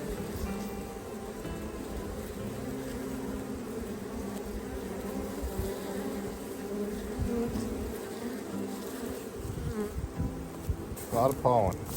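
Honeybees buzz continuously around an open beehive during a spring hive check, a dense, steady drone close by with occasional louder passes near the end.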